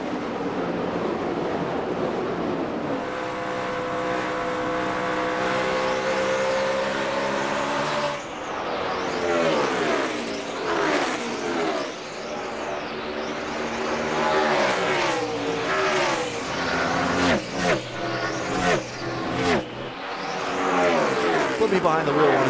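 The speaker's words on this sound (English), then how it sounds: "Behind the wheel of one of these race cars, Dale." NASCAR race cars roaring around the track at the 2012 AAA 400, a continuous engine drone swelling into loud passing whooshes and pitch sweeps, with crowd and broadcast ambience beneath.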